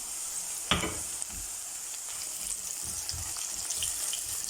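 Steady sizzling in a hot pan as chopped green garlic and green chillies fry for kadhi, with a single clink near the start and no talking.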